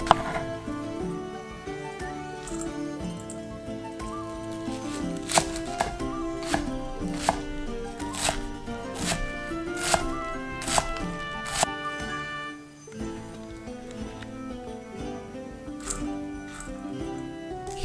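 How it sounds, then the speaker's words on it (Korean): A knife chops green onions and garlic chives on a board, giving a run of sharp, close cutting strikes over steady background music, with a pause near the end. "양념장에 들어갈 쪽파와 부추는 잘게 썰어준다"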